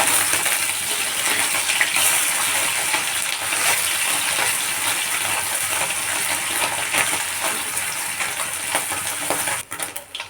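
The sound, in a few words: fish being flipped while frying in oil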